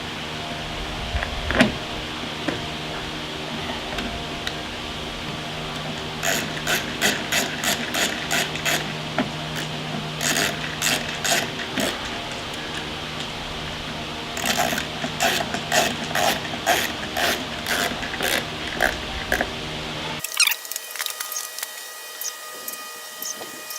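A screw is driven into a homemade mounting plate for a Kuna camera, heard as close, repeated whirring motor bursts with mechanical ratcheting that run steadily for about twenty seconds before cutting off.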